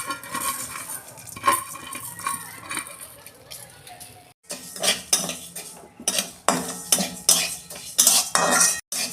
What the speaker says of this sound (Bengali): এই শুকনো খোলায় একটু নেড়ে নেব।